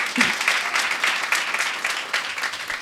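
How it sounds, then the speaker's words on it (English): Audience at a young women's dialogue event claps together in a brief, even round of applause, many hands close by with no talking over it. "So we need to give her a round of applause."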